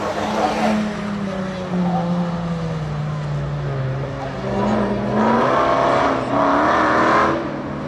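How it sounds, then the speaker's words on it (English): A Dodge Hellcat at a spectator drag race at Bethel Speedway roars past in rising, revving bursts, loud and fairly close, with crowd ambience behind it. "That's our new Hellcat."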